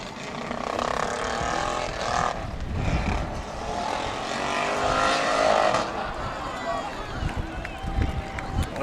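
Pro modified race cars, including a Crown Victoria and a number 50 machine, run a dirt figure 8 race at a county fair, engines droning and revving steadily at mid distance beneath continuous commentary and crowd noise.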